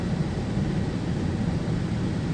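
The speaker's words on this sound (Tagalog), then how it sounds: "ang baba ng eroplano mga idol oh" Low-flying airplane passing close overhead, a steady loud broadband engine roar holding for a couple of seconds with no voices over it.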